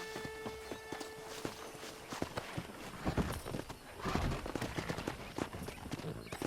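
Horse hooves clip-clop steadily across open ground among a pack of wild horses in the Red Dead Redemption video game, the irregular thuds fairly close and continuous, with a faint neigh and light ambient noise mixed in.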